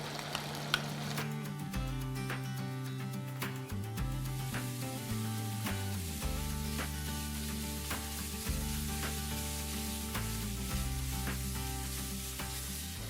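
Ground spice paste for a satay (sate ambal) sauce sizzles and fries steadily in a hot pan, a loud, continuous crackling hiss with occasional stirring scrapes throughout.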